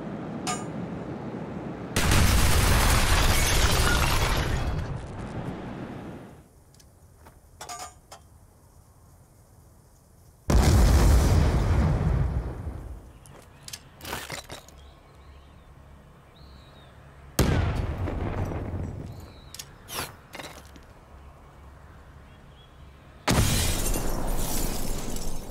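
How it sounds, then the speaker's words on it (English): Grenades are thrown and explode in Black Ops video games. Four separate loud blasts, each one a sharp crack followed by a rumbling tail, are spaced several seconds apart, with quieter clatter in the gaps between them. "Кидаю гранату!"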